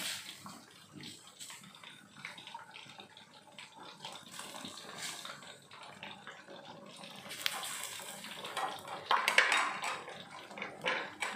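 Running water rinses ingredients while cooking eggplant lodeh, a steady faucet stream with light clinks of dishes and utensils, swelling louder toward the end.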